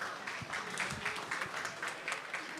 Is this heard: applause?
yes